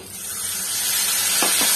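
A splash of water hits a hot pan of fried koi fish in oil, bursting into a loud, sustained spraying hiss that swells and holds, close by.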